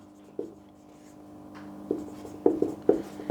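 Marker strokes on a board while a name is written, a handful of short scratchy squeaks and scrapes spaced irregularly, close by and fairly quiet against a faint hum, with no talking.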